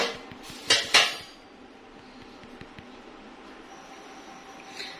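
A metal stand is set down inside a cooking pot (patila) for baking chocolate cake without an oven, giving two sharp metallic clanks near the start and then a quiet room hum.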